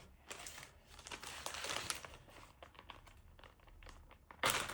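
Crinkly plastic packet being torn and handled up close, a steady run of crackling rustles ending in a sharper burst of crinkling.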